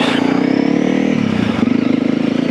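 A Honda CRF300L dual-sport motorcycle fitted with a 42-tooth rear sprocket pulls away up close, its single-cylinder engine throbbing steadily and then rising slightly in pitch as it gets under way.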